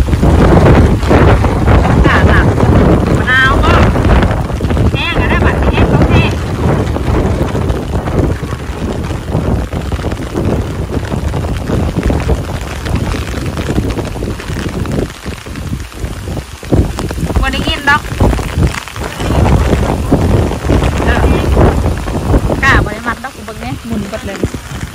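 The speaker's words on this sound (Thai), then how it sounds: "ทางลมทางฝน" Heavy wind and rainstorm over rice fields: a dense, constant roar of rain and gusting wind buffeting the microphone, loud and unbroken throughout.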